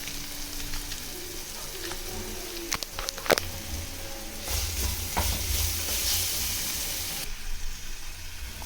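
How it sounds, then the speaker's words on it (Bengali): Spoon stirring a carrot and onion paratha filling with spices in a pan, scraping and soft sizzling in close, continuous bursts with a few sharp clinks, no talking. "এবার সব একসঙ্গে মিক্স করবো"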